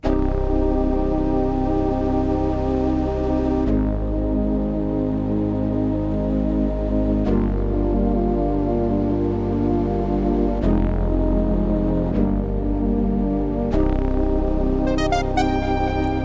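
A deep synth bass holds long sustained notes beneath a breathy Japanese flute-like lead in the lower register, with chord changes every few seconds and a bright high flourish near the end.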